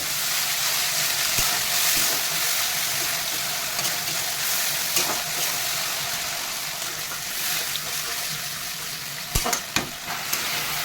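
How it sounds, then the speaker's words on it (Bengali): A steady, loud sizzle of frying masala for a Bengali koi fish curry fills the pan as a little water goes in, with a continuous hiss and a few sharp crackles and spits near the end. "এবার মশলা কষানো হয়ে গেছে অল্প একটু জল দেবো"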